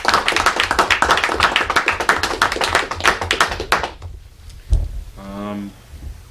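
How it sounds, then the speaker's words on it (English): Audience applause at a school board meeting: dense clapping from a room of people for about four seconds, then fading out, followed by a brief thump and a short hum-like tone at the end. "Let's give her a round of applause."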